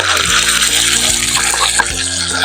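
Wet black masala paste dropped into plenty of hot oil already holding mustard and cumin seeds, giving a loud, dense, continuous sizzle with hissing crackle up close.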